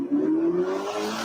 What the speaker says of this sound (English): You hear how that revs, that it's ring, ring.